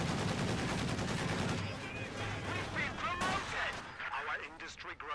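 Rifle grenade explosions in a multiplayer shooter video game, heavy booming blasts and gunfire crowding the opening seconds, then fading into a quieter mix of distant shots and chirpy game effects, with a voice talking over it.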